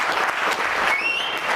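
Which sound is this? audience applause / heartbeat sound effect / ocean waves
audience applause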